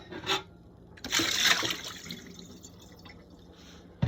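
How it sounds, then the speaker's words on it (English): A bowl rinsed out with water, giving a short splash followed by a longer stretch of running, dripping and rubbing water close by, then quieter trickles. "Come on, wash out the bowl and freshen it up for me."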